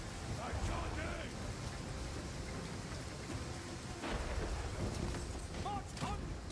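Heavy, constant rain during a thunderstorm in the video game Total War: Pharaoh, with deep rumbling thunder underneath and voices calling out over the storm.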